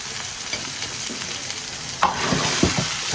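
Pork belly braising with cooking wine, dark soy sauce, caramel colour and whole spices is stirred in a pot, a steady close sizzle with a few scraping knocks of the spatula and no talk.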